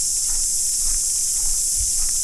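Loud cicadas near Orere Point in New Zealand give a continuous high-pitched shrill drone that stays constant, with faint low rustling or footsteps underneath.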